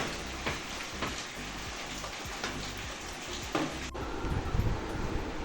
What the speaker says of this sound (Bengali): বাইরে সকাল থেকে বৃষ্টি শুরু হয়ে গেছে